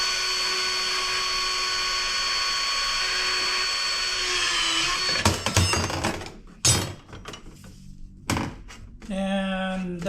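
Power tool cutting aluminum hurricane scrap: a loud continuous high whine that breaks into rattling bursts and clanks as the cut finishes, followed by short revving spurts.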